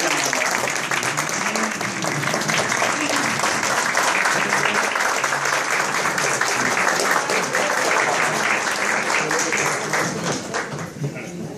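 A standing ovation for young scholarship students at a foundation gathering: a large audience claps in a dense, sustained wash that holds steady for several seconds before thinning slightly at the end.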